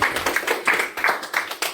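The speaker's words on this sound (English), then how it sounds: "let's give Kyle one more round of applause" Audience applause at a recovery-story talk, a steady patter of many hands clapping at close range, dense and even across the whole stretch with no voices over it.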